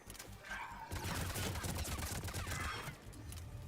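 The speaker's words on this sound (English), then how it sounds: "Let me shoot them in the head." Rapid video game gunfire from shooting enemies crackles in dense, continuous bursts with a brief lull near the start, moderately loud over a busy in-game background.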